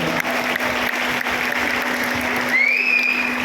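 A seminar audience in Raipur breaks into loud, dense applause that fills the whole stretch, with a steady low hum underneath and a high electronic whistle rising near the end.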